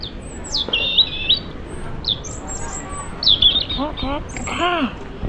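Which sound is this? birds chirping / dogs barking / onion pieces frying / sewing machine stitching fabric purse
birds chirping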